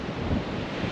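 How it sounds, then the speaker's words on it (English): Wind-blown surf on the wild Orkney coast at Yesnaby, a steady broadband roar of breaking waves mixed with gusting wind buffeting the microphone, loud and continuous with no voices. "Look at those waves."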